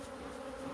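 Honeybees at a hive being brushed and smoked for winter, a steady close buzzing drone that holds evenly without break and no one speaks.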